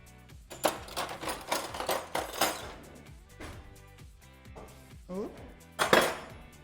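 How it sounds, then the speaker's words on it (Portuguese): A spoon scoops farofa topping onto a dish for a guava-paste cuca cake, making close clinks and scrapes against the dish in irregular bursts with quieter pauses between them. "Eu vou colocar com a colher para ficar mais fácil."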